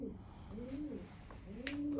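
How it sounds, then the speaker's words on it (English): Deep, repeated cooing from a pigeon inside a farm building, two soft rising-and-falling phrases a second apart, close and fairly loud over a low steady background hum. "That's a pigeon."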